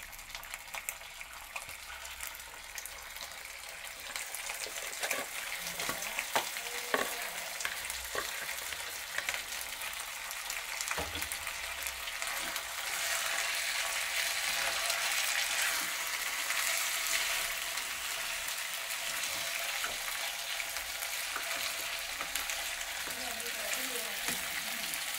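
Frying food sizzles steadily in a pan, a dense continuous hiss that swells louder about halfway through, with scattered stirring clatter and a voice talking at moments over it.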